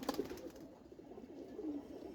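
An old Jira-neck pigeon gives a soft, low coo, faint and drawn out over a quiet indoor hush.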